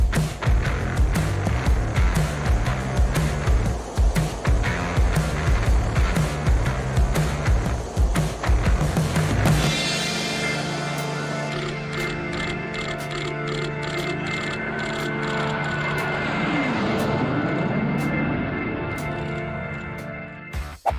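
US Navy Blue Angels jets fly in a loud, rough, pulsing roar that gives way to a smoother, high, whining engine tone with a pitch that dips and rises, recorded close from onboard.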